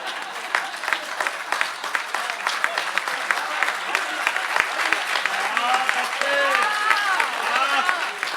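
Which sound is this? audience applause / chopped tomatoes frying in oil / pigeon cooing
audience applause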